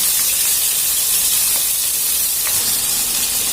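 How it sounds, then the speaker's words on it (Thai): Fresh shrimp stir-frying in a hot pan while making kimchi fried rice, a steady loud sizzle and hiss with a few faint scraping ticks, no talk. "ด้วยการผัดกุ้งสดนะคะ"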